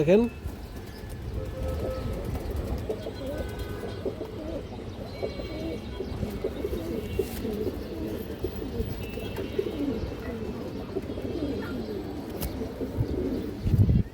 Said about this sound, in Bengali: কাজলা গিয়ারের অনেক সুন্দর একটা কৌতর খুব চঞ্চল কৌতর